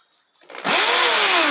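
A repaired power drill switched into hammer mode starts up and quickly reaches a loud, steady, high-pitched whir with a rising tone, running alone and close by after a brief quiet lead-in.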